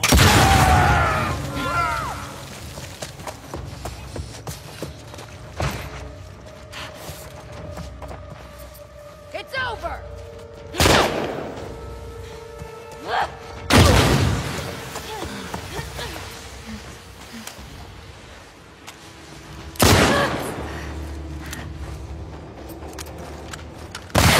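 Gunfire cracks out in The Last of Us Part II, several sharp, loud shots spaced irregularly amid tense ambient noise, with people talking in between.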